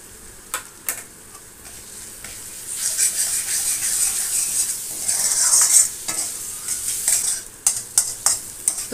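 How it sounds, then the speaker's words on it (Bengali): Spice paste with ginger-garlic paste, cumin and coriander powder sizzling in a pan while being stirred, a steady bright frying hiss with intermittent scraping taps of the spatula against the pan, no talking. "দিয়ে নেড়ে চেড়ে মশলাটা আমি ভালো করে কষিয়ে নেবো।"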